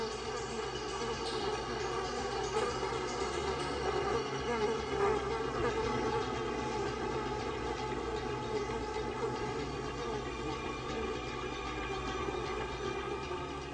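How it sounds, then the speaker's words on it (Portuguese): A honeybee swarm settled away from its old hive hums with a dense, continuous buzz of many wings, steady and fairly loud throughout with no talking. "o enxame pousa para se reagrupar e determinar o resto do plano"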